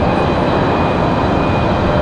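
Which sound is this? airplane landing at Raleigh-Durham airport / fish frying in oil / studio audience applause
airplane landing at Raleigh-Durham airport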